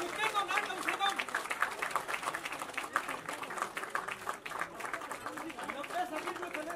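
Steady applause from an audience at a biography book launch for writer-director Seema Kapoor, clapping moderately loud and continuous with crowd murmur mixed in.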